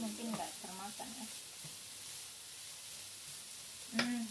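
Nasi goreng frying and being stirred in a pan, with a soft continuous sizzle and faint scraping throughout, with brief bits of speech at the start and near the end.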